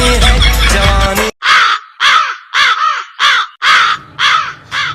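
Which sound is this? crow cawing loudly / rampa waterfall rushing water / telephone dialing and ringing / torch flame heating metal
crow cawing loudly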